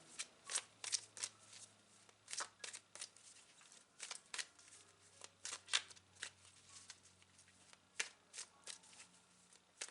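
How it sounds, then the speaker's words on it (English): A deck of tarot cards being shuffled by hand up close, a series of quick riffling bursts and soft slaps repeating irregularly across the whole stretch, quiet and alone with no talking. "I'm going to draw a final card to close your reading."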